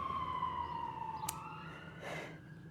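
An emergency vehicle siren wails with a falling tone, heard at a distance over a low background rumble, with a brief sharp burst partway through.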